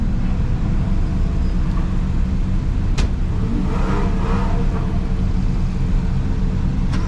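A Porsche 959 pulls away at a private Porsche gathering, its engine a steady, continuous rumble throughout, with a couple of sharp clicks and no talk.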